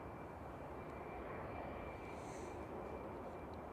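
Boeing 737-800 airliner on final approach to Manchester Airport, a steady distant engine roar that stays faint and even throughout, with no talking.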